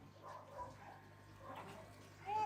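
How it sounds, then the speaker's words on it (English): Neighbourhood dogs barking in the distance, faint intermittent yips and woofs ending in a louder whine, with quiet talk nearby. "Just because the neighbourhood dogs are barking,"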